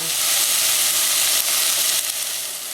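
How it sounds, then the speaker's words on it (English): Celery and onion sauté in a pan with a pinch of salt, giving a steady, close, moderately loud sizzle and frying hiss throughout, with no talking. "these guys have been sauteing for about 2 minutes"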